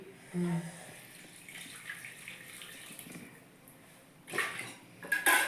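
Faint splashing of water being poured comes in short bursts, with light clinks of dishes in a quiet room.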